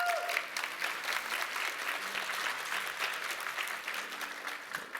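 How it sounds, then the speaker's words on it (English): Conference audience at a lifestyle medicine event giving sustained applause, an even wash of many hands clapping at moderate distance, steady and unbroken. "Let's give her a round of applause."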